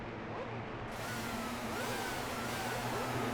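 A 1960s-style race car engine in the Formula 1 97 video game, a loud continuous buzzing engine note with rising and falling revs as gears shift, heard alone.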